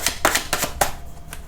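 Tarot cards are shuffled and drawn, giving several quick close flicks and slaps in a short, irregular burst.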